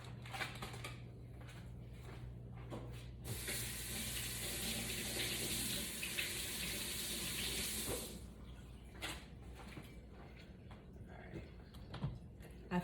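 Tap water runs steadily over broccoli for several seconds, a close hissing splash that starts and stops, with kitchen clatter before and after and a voice talking nearby.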